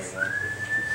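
A single sustained whistled tone from a person whistling while whittling, holding one steady pitch for most of a second over a faint background.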